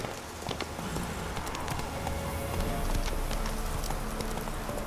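Roach, a horse in the video game Witcher 3, trots with steady rhythmic clip-clop hoofbeats over a dense ambient game soundscape, moderately faint and continuous.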